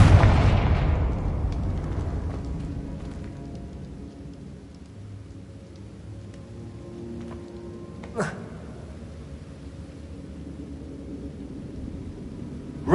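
A Confringo spell detonation in Hogwarts Legacy, a loud booming explosion at the start that decays into a long rumbling tail, with a single sharp crack partway through.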